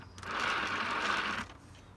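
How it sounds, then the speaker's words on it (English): Dense mechanical rattling of gears grinding together inside a Rover V2 gearbox, steady and continuous for over a second, then cutting off abruptly. "That's all the gears moving around, sounds like a bucket of rocks"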